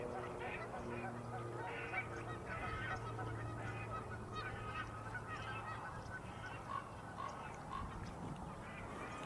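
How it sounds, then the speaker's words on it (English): A white-fronted goose honks amid a busy flock of geese and other waterfowl in Southern California during spring migration, the calls steady and overlapping at moderate distance with continuous background bird noise. "That's a white-fronted goose."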